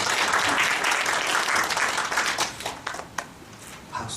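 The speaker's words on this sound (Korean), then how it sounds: "우리 신정호 교수님을 큰 박수로" Lecture hall audience applauds to welcome a visiting professor, loud dense clapping that thins and fades out into a few scattered claps by the end.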